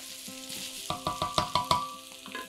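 Potatoes for pytt i panna sizzle and fry in a hot pan, a steady close crackle with a few sharper stirring scrapes over a short stretch.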